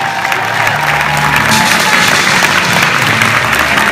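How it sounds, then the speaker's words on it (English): Audience applause with scattered cheers fills the room at a spoken word poetry event, a steady dense clapping wash lasting throughout, loud and close, with a few voices shouting over it. "make some noise for Robert Polito from the Poetry Foundation."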